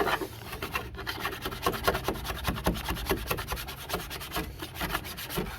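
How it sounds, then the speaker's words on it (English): An acetone-soaked rag is rubbed back and forth over residue on a Tarpon 160 kayak during a restoration, a steady close scrubbing rhythm with no talk. "I got acetone on this rag, and I'm rubbing it all over this stuff here"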